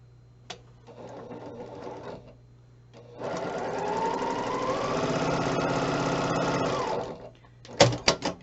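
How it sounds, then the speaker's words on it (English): A sewing machine runs steadily for about four seconds, stitching quilt block pieces from corner to corner for a patriotic block-of-the-month quilt. A shorter burst of stitching comes first, and a few sharp clicks follow at the end. "we're going to sew from the upper right to the middle left"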